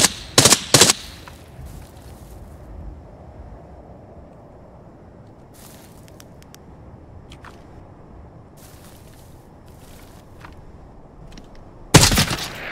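Gunfire in the online shooter Arena Breakout: Infinite: a quick pair of loud, sharp shots at the start, then a long stretch of quiet ambience, then another hard burst of shots at the very end.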